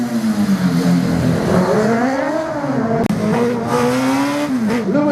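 A Martini race car at a slalom event in Saint-Lô roars through the course, its engine note rising and falling in continuous revving with tire squeal through the turns and a sharp click near the middle.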